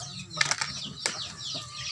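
A chicken being fed corn flaps its wings in a few quick, close bursts, with soft clucks and rustling between them.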